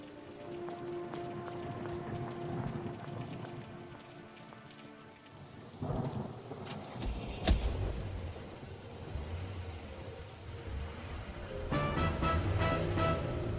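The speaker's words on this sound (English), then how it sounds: "Oh, I can't believe how hard it's raining." In a Painkiller PC game cutscene, heavy rain pours steadily on surfaces while a sharp, loud thunderclap cracks midway and rumbles off, with the downpour swelling again toward the end.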